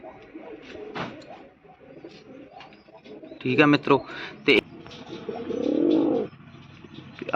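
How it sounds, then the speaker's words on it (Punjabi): Pigeons coo in a loft, a Khatti male and a red-speckled Cheeni female among them, with pulsing coos loud and close, strongest in a long rolling burst near the end, while someone talks over and between them. "ਖੱਟੀਆਂ ਦਾ ਕਬੂਤਰ ਆ ਬਾਈ ਠੀਕ ਹੈ ਤੇ ਆ ਕਬੂਤਰੀ ਆ ਲਾਲ ਚੀਨੀ"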